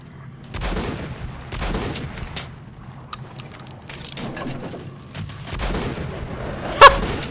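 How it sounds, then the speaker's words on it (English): A quadruple-barrel shotgun in Metro Last Light firing all four barrels at once, heard as several heavy, booming blasts spaced about a second apart over low game ambience, with no talk. "if you right-click this shotgun, it shoots all 4 of them at the same time"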